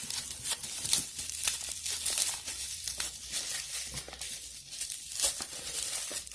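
New phones being unboxed, with packaging crinkling and tearing in continuous close, fairly quiet bursts.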